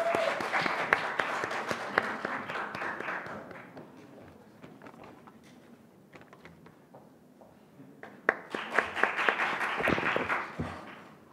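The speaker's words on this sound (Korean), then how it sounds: "정소연 학생의 연설 박수로 맞아주세요" An audience at a youth speech contest claps to welcome a student speaker. The applause fades to a lighter patter mid-clip, then swells again into a fuller burst near the end.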